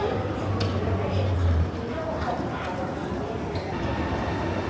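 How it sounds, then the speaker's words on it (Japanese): A train rolls into a station with a low steady rumble and faint rail clatter, while people talk nearby over the noise. "ちょうど今列車が入線しました。"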